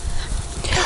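Young five-week-old puppy whimpering among its littermates, a short, faint, high cry lasting under a second against a low background rumble.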